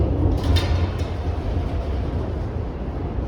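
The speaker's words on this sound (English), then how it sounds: "I can hear either a GO train or a VIA train coming in." A GO or VIA train arriving in downtown Toronto gives a loud, steady low rumble with a brief metallic screech near the start, heard from a city street with no talk.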